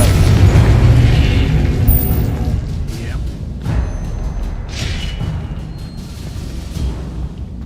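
In the Hogwarts Legacy video game, a Confringo fire spell detonates with a loud deep boom that rolls into rumbling debris. Several smaller bursts and pops follow over the next few seconds.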